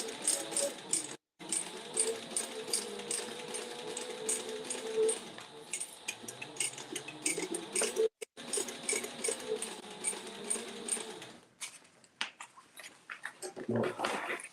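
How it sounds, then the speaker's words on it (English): A sewing machine bastes the exterior fabric of a crossbody bag, running in steady mechanical stretches with brief stops, close by and moderately loud, with faint talk now and then. "I'm just basting my other exterior on here."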